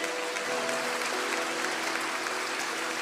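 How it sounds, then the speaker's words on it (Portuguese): A church congregation applauding during a sermon, a steady, even wash of many hands clapping, sustained at moderate volume throughout. "Você pode aplaudir o Senhor por isso?"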